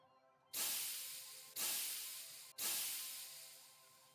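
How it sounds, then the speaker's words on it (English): Three loud, breathy hisses burst out one after another, each starting sharply and slowly tapering off, with brief pauses between them. "You can hear the familiar hissing sound all around you now"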